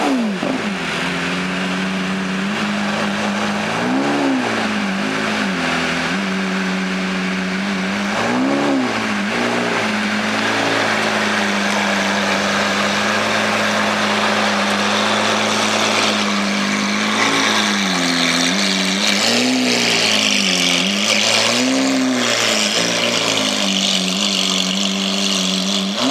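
Lamborghini Aventador supercar engine revving very loudly and continuously, with repeated rising and falling blips of throttle over a steady roar, close to the listener.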